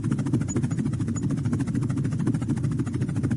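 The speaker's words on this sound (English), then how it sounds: "So that thumping is tip vortices off the blades of the helicopter." A helicopter's rapid rhythmic blade thumping from tip vortices off the blades, over a steady engine drone, loud and continuous throughout.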